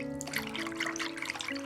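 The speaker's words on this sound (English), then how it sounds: "add some water and give them a good rinse" Water trickles and splashes steadily as raw chicken wings are rinsed by hand, a soft close-up sloshing over a faint background hum.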